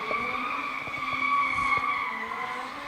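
A pro drift car at a D1NZ qualifying round in Tauranga squeals its tires in a sustained high skid while the engine pulls, heard at a moderate distance.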